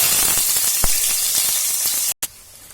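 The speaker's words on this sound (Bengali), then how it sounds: "এবার আমি তেলটা হয়ে গেছে, এর মধ্যে আমি পনিরের টুকরোগুলোকে ছেড়ে দেব।" Thick pieces of paneer frying in hot oil give a loud, steady, close-up sizzle with faint crackles, cut off by a brief silent gap near the end before the sizzling resumes.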